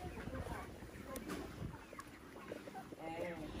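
Broiler chickens in a small poultry farm house, faint overlapping clucks and murmurs in a noisy background, with voices talking among them.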